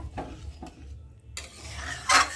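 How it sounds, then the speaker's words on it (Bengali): A metal spatula stirs a taro and prawn curry with added water in a pan, giving a few soft scraping strokes followed by a louder, closer scrape near the end, with no talking. "এই মশলাগুলোকে খুন্তি দিয়ে নেড়ে ঝোলের সাথে লাগিয়ে দেবো।"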